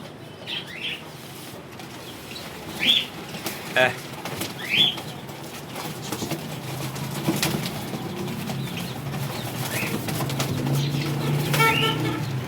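Pigeons kept for sale in a flying-breed setup coo and chirp in short bursts, with occasional wing flaps, while voices talk nearby.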